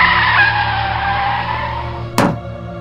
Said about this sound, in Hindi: बदकिस्मती से मेरी गाड़ी जोर से उनकी गाड़ी से टकरा गई।